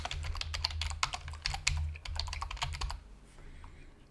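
A quick flurry of keystrokes on a computer keyboard entering text into a form, close and crisp for about three seconds before fading into quiet room tone, with no talking.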